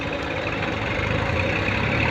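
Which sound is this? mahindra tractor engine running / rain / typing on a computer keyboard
mahindra tractor engine running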